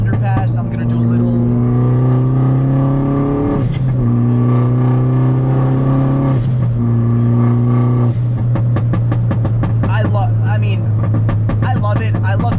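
A 2007 Mini Cooper S R56 revs loudly and steadily through an underpass, its engine note rising and holding in repeated pulls, with crackling pops toward the end; a voice talks over it.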